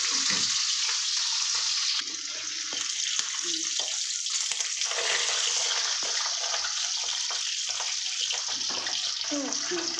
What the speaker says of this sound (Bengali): এবার একটু লো করব, কারণ মাছটা যেন হালকা করে ভেজে দেবো।